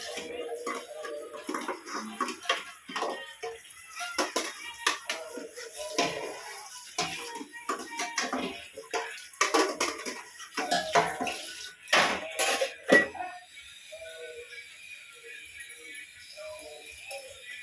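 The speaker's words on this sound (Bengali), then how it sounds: "কড়াইটা মাজতে হবে মাজতেও সময় লাগবে এখন" Dishes being washed at a sink, with a wok being scrubbed among other utensils: irregular clatters, scrapes and splashes of water close by, busier early on and thinning out toward the end.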